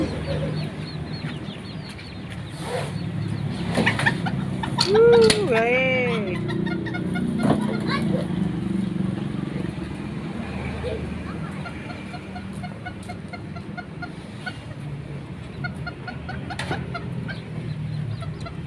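Chickens cluck and squawk nearby, with a rooster-like call rising midway, repeated clucks scattered throughout, and a voice speaking briefly.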